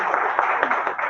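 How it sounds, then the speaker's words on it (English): Audience applause at a menstrual wellness training session in Nairobi, Kenya: a dense, steady patter of many hands clapping at once, moderately loud and continuous. "Let's give her another round of applause."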